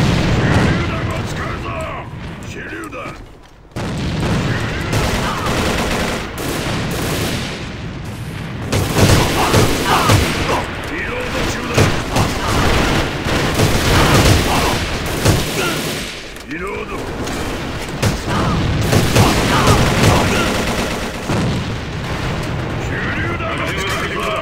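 Dense gunfire and blasts from a grenade in the online shooter AVA, a mercenary elimination quick match, with loud bursts and booms rolling almost without pause under steady talking.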